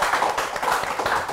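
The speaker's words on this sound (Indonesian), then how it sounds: "mari kita beri tepuk tangan yang meriah" Audience clapping at the close of an Indonesian panel discussion on home care and caregiving, a short burst of lively clapping from a small group, close and fairly loud.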